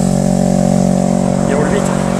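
A car speeds along a road during a 30 km running race, its engine a steady droning hum with a brief rising whoosh as it passes close by, a voice faintly present underneath.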